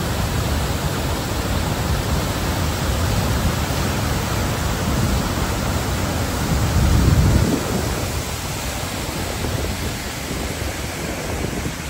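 Hogenakkal waterfall produces a dense, steady roar of rushing water that swells briefly louder partway through, heard close and without any talking.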